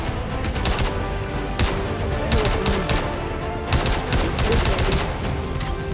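Rapid bursts of gunfire in the Star Citizen 3.14 shooter game during a night raid on enemy anti-air weapons, with dense overlapping shots and sharp cracks running loud throughout.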